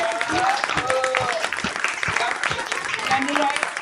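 Classroom of children clapping for their teacher, a steady dense applause filling the room with a few voices and a spoken cue mixed in.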